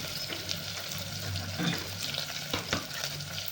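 Chopped onion frying in oil for a sambar tempering, a low steady sizzle under scraping stirs and a few light clinks of a spoon against the pan, close and fairly quiet, no talking.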